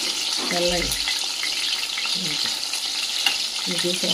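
Eggplant frying in a pan for masala curry gives a steady sizzle, broken by a few short scraping stirs of a spatula against the pan.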